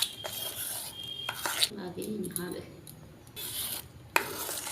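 Batter of raw potato paste with gram flour, salt and a pinch of sugar being stirred in a bowl: quiet, intermittent scraping and soft clinks of the spoon against the vessel, with brief gaps between strokes.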